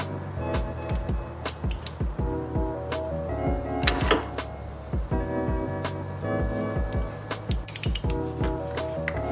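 Metal ratcheting and clinking from a socket wrench working a K&N oil filter loose during an oil change, with repeated sharp clicks and clanks close by, fairly loud and busy throughout.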